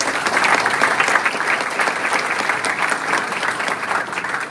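A large audience at a Bandung youth forum with Anies Baswedan applauds steadily and loudly for several seconds, a dense, even wash of many hands clapping with no voices over it.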